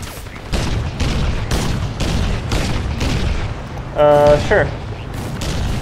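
Gunfire in Crysis Remastered, a rapid run of heavy booming shots repeating steadily, loud and near, with a voice speaking over it.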